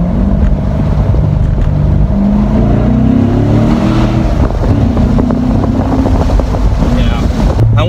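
A C7 Corvette Premier Edition engine blips up and falls as the automatic rev match fires during braking, a loud, steady drone with shifting pitch, heavy wind rush around the car.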